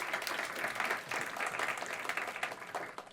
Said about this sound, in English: Let's give Shai a round of applause.